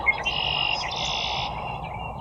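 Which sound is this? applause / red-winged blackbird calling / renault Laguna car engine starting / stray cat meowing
red-winged blackbird calling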